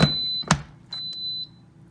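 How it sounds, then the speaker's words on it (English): An Instant Pot pressure cooker beeps close and clear: two sharp tones with clicks, then a longer steady beep fading out, with short pauses between. "You're going to hear 3 beeps"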